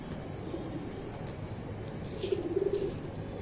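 Pigeons coo on a house rooftop in the morning, with a short run of soft, low, throaty cooing near the end over steady background noise.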